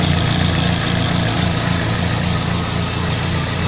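A car engine, started after sitting for four months, idles steadily up close while warming up, a loud continuous low rumble with an even mechanical vibration and no other sounds.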